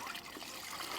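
Wash media dunked into a rinseless car wash bucket, giving a soft, brief watery swish and trickle, quiet and close.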